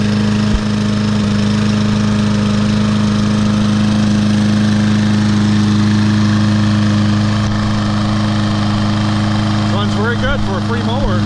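A Troy-Bilt TB200 lawn mower with a 625EX Series engine runs at a steady idle close by, a loud continuous low hum, while someone talks briefly toward the end.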